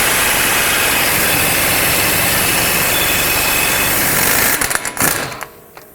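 A power tool with a 32mm socket spins off the axle nut on a 2007-2010 Chrysler Sebring, a loud, sustained whirring drone that breaks into a few sharp rattling bursts before cutting out at the end.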